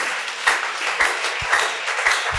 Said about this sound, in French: acclamation pour Jésus quand même.